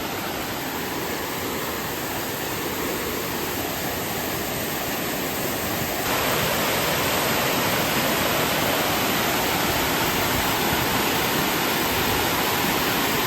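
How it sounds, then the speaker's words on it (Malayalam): A small waterfall at Chundale rushes in a dense, continuous roar, close and steady, and grows louder about halfway through. "ഒരു ചെറിയ വെള്ളച്ചാട്ടമാണ്"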